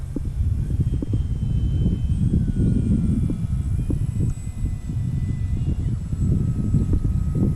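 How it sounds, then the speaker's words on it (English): An Eflite Maule RC model airplane, one with intermittent power loss, flies on a windy day. Its engine gives a faint, steady hum under heavy, continuous wind buffeting on the microphone. "Yeah, she's a fun plane to fly."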